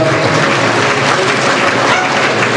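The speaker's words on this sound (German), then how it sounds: "beide Vertreter ihrer Rasse einen ganz herzlichen Applaus für die American Celebrate" Audience at a stallion show for Karabagh horses in Alsfeld claps in dense, loud, sustained applause, unbroken and with no voices over it.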